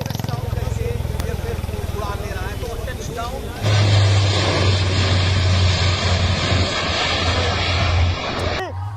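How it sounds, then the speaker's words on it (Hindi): Fifteen Indian Air Force fighter jets roaring over the Ganga Expressway, a loud sustained engine roar that swells abruptly partway through and holds before easing, with a crowd or commentary noise beneath. "ये गर्जना आप देखिए। 15 लड़ाकू विमान जो आज गंगा एक्सप्रेसवे पर गरजे हैं।"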